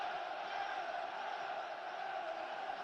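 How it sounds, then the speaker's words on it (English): A Sunderland football crowd sings the Away the Lads chant during a match against Luton Town, a steady, distant wash of massed voices without clear breaks. "The crowd are certainly doing their bit. They've been singing Away the Lads for the last 5 minutes or so."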